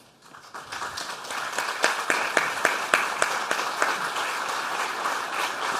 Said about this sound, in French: ce n'est pas les journalistes qui applaudissent